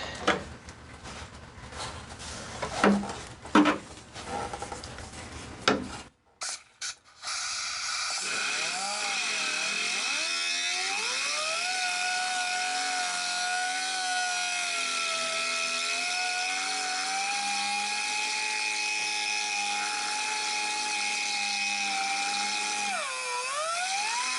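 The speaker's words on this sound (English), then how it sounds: "I'll spare you the rest of the grinding noise and speed it up here." A power grinder whines steadily while working on welds in the floor pan of a 1966 Mustang during rust repair, with its pitch wavering as the tool loads and unloads. Irregular clanks and handling noises come first.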